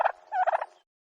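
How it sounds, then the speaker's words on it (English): A single short turkey gobble, a quick warbling rattle lasting under a second, heard up close and alone. "turkey"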